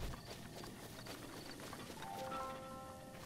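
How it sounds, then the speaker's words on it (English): Horses running in Breath of the Wild, their hooves clip-clopping in a steady faint patter with a soft game tone rising near the end, all at low level. "It's more horses!"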